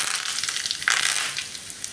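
Curry leaves dropped into hot oil for tempering in a Gujarati broccoli-corn raita sizzle sharply, a crackling hiss that flares as they hit the oil and then settles into a steady fizz, close and fairly loud, with no talking.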